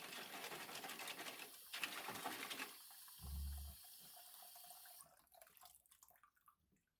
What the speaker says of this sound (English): All I'm doing is just adding some hot water in it to kind of help this get the grease off those cassettes